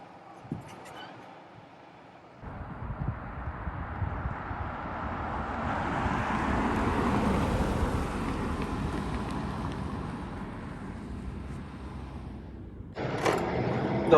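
A Mitsubishi Outlander 7-seater LS AWD SUV with a 2.5 litre non-turbo petrol engine pulling away on a drive, a low engine and road rumble that swells steadily and then eases, heard from inside the cabin.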